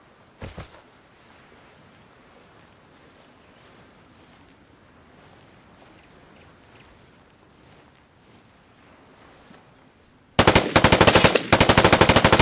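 Light machine gun bursts in the video game Vigor: a brief loud burst at the start, then a quiet stretch of low rumble, and a sustained loud burst of rapid automatic fire over the final two seconds.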